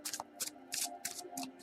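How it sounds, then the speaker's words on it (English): A deck of tarot cards being shuffled by hand, giving repeated bursts of crisp riffling at a steady rhythm, close and fairly quiet, with no talking. "Just shuffling again so I can tune into the energy."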